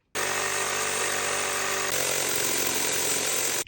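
A power saw blade grinds against old bolts in a wall, one loud continuous harsh whine that starts abruptly, shifts pitch slightly midway and stops sharply after about three and a half seconds.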